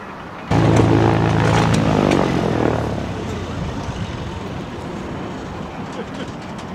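A propeller airplane arriving with supplies for a training exercise roars loudly up close, its droning engine tone starting abruptly, then easing off into a broader rushing noise.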